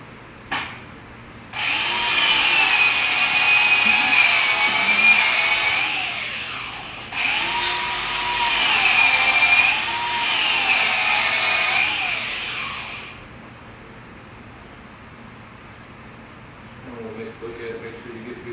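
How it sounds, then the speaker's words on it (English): A grinder with a wire wheel grinds down a metal jaw, a loud, harsh whine close by in two long bursts separated by a short pause, and then it spins down to quieter background noise. "Oh, you're still grinding?"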